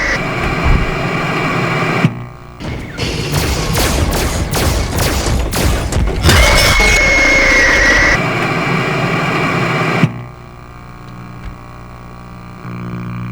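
Loud bursts of rapid gunfire in FNAF Security Breach crackle through a dense mix of game sound, with several sharp shots and a sustained barrage in the middle before cutting off to quieter ambience.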